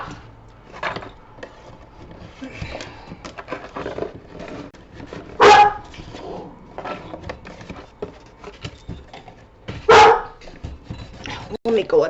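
Indoor dogs bark in loud, sharp bursts, two especially strong barks standing out amid a scatter of softer yips and household knocks, with a person talking over them.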